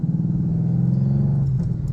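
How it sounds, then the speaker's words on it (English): A 2012 Ford Mustang Boss 302 with a Flowmaster exhaust rumbles at a steady, deep idle, loud and close, with no talking over it. "Oh, it has Flowmaster exhaust on it."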